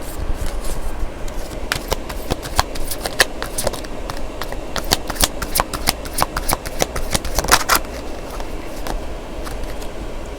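Angel oracle cards are shuffled in the hand: a dense run of crisp, papery riffles and flicks, up close, with fast irregular clusters of sharp card snaps repeating throughout and no talking.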